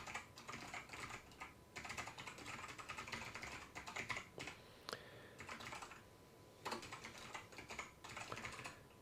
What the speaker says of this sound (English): if I type out wget -q and that long URL that's right there